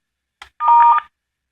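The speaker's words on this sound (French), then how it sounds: "Là, je vais raccrocher." A VOIP intercom gives a brief click followed by a short, steady electronic tone when a call is hung up, heard alone and clearly in a quiet setting.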